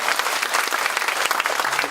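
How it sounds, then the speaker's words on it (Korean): Audience applause fills the room after a lecture on industrial growth strategy, a dense, steady patter of many hands clapping throughout, close and loud with no voices over it. "오늘 강의해 주신 원장님께 다시 한번 박수 부탁드리겠습니다."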